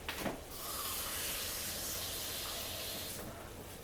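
Water poured into a hot pan while making spaghetti with meatballs sizzles with a loud, steady hiss for about three seconds before easing off.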